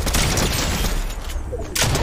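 Dense, rapid gunfire from a Fortnite match, overlapping shots in a continuous loud barrage with a brief dip near the end before another burst.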